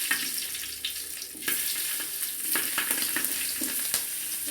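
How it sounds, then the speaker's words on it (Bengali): Spiced salad vegetables, capsicum among them, fry lightly in oil, making a soft continuous sizzle with occasional small pops and stirring knocks close by, without any speech. "তো আমি এগুলো একটু হালকা ভেজে নিব"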